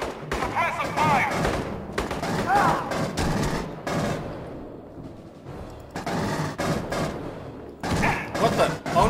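Suppressive gunfire from the video game Aliens: Colonial Marines, loud bursts of rapid automatic shots in several volleys separated by short lulls, with a voice shouting over the shooting.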